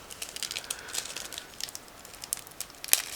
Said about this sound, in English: They come in a sealed plastic bag, so I'm opening it right now